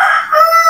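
A rooster at home crows loudly and close by in one drawn-out call that dips briefly mid-crow before rising again, with no talking over it.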